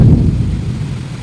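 Deep thunder rumble during a heavy afternoon rainstorm, a loud low boom that fades away over a second or so, heard alone.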